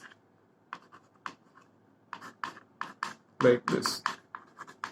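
Writing on a board during a lecture: short scratchy strokes in irregular bursts, growing busier toward the end, while a lecturer briefly speaks.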